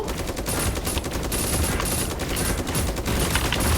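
Rapid, loud bursts of automatic gunfire in a video game about a jumbo jet, continuous and dense throughout with barely a pause.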